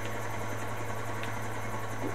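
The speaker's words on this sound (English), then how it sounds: "Oh, helicopter. Like driving down low." A helicopter in the video game GTA 4 flies low with a steady, loud rotor thrum and engine drone throughout, with no talking.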